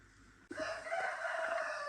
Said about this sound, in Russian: И петух мой кукарекает, как всегда.